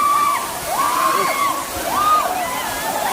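At Gonda Hati waterfall, a steady broad roar of falling water runs throughout as people bathe and splash, heard under a person talking over it.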